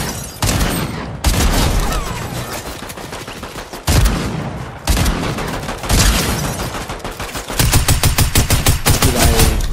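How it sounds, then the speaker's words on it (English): Dense gunfire in the Fortnite video game: loud, close bursts of rapid automatic shots come in several volleys, with short pauses and a fast rattling stream of rounds at the end. "As I'm running through a hail of gunfire."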